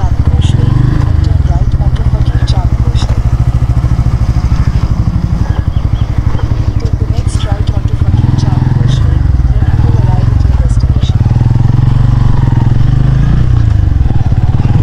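Motorcycle riding slowly over a rough, deteriorating village road, its engine droning loud and steady throughout with rattling clatter from the bumpy surface, and someone talking over it.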